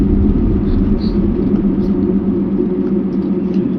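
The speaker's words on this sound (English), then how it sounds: "Back in the truck, and we are heading north back to the home state of Michigan" A pickup truck heading north on a highway toward Michigan, giving a steady loud low road rumble and engine drone throughout, with no talk.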